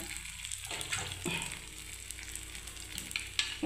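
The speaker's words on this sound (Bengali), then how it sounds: "তেল আমার গরমও হয়ে গেছে বন্ধুরা। দেখুন এবার আমি এই সরষে আর পোস্তটা বন্ধুরা এর মধ্যে দিয়ে দিলাম।" Mustard and poppy seeds drop into hot oil and fry with a soft, steady crackling sizzle, close by, broken by a few faint spatters and utensil clicks, with no talking.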